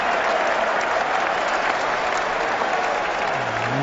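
Crowd at Lord's cricket ground during an England vs India Test match breaks into loud cheering and applause, a sustained roar that holds steady throughout.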